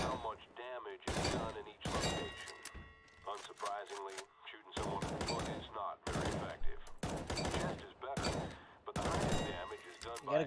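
Repeated bursts of gunfire at a shooting range in Counter-Strike: Global Offensive, loud broadband cracks recurring in clusters across the stretch with short gaps, mixed with game effects, and talk running underneath.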